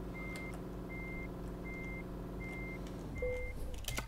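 A truck in Euro Truck Simulator 2 backs up with its reversing alarm pulsing in a steady series of five evenly spaced beeps over a low idling engine, followed by a short hiss of air brakes.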